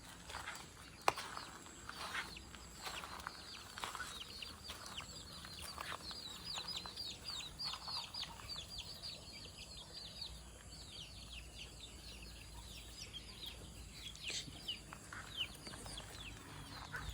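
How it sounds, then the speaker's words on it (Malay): A pair of Rhode Island Red chickens, one about to lay, clucks and murmurs in a farmyard, with steady bird chatter and occasional scuffing footsteps throughout, no talking. "Ada ayam rock island sepasang tapi tu tengah nak bertelur tak nak kacau ah."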